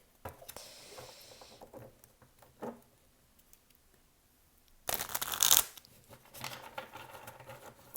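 Oracle cards are shuffled for a cartomancy reading, giving soft papery patters and riffles in scattered bursts, with one louder, dense flurry of card noise partway through.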